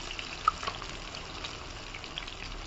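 Raw banana slices fry in hot oil with a continuous soft bubbling sizzle, close and fairly even, broken by a couple of small pops and crackles.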